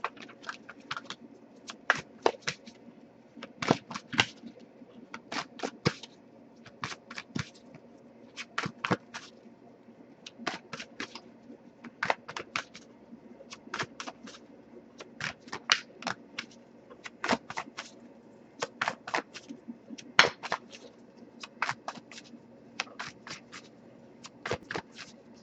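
Oracle cards handled one by one while searching the deck for a single card, giving a steady run of crisp, close flicks and snaps over a low background hum, with no talking.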